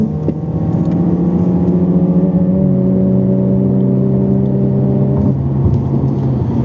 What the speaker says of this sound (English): That was another car. Also a fast car.